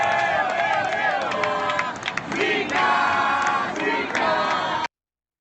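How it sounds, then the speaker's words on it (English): A stadium crowd yells and chants loudly together in a dense, roaring wall of voices, near and continuous, before it cuts off abruptly. "I actually find that quite funny that they were yelling Zika at Hope"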